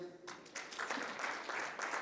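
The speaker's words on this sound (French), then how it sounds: "Et on peut l'applaudir." Scattered applause from an audience at an e-health awards session in Monaco, a steady patter of clapping for a couple of seconds with faint voices mixed in.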